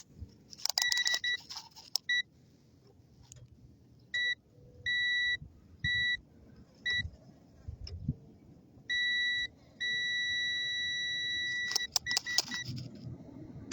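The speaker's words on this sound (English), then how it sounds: "That beeping noise indicates both of them are they're going to have continuity between ground and neutral" A multimeter's continuity tester gives a series of short and longer electronic beeps in an uneven pattern, ending in one sustained tone, with faint handling clatter and rustle around them, while checking ground and neutral wiring.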